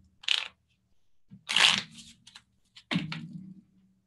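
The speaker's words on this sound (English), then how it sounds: "I feel like I should shuffle 3 times" A deck of playing cards is shuffled up close in three separate bursts, each a quick riffle of crisp flicking and snapping, with quiet pauses between them.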